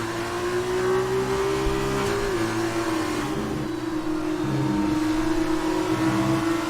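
F1 2019 race car engines screaming on the Hungarian GP track in an F2 sprint race, a loud sustained high-pitched drone that dips and rises slightly as gears shift, steady and close throughout.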